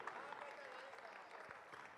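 Crowd applause and cheering for the last athlete finishing a race, a steady, even wash of clapping held at moderate level throughout, with a voice talking over it.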